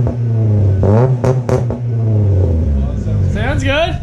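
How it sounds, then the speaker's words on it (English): A Honda H22 engine swapped into an Acura EL revs up and down in a few loud, close bursts over an idle rumble, with people talking over it. "Give it a rev."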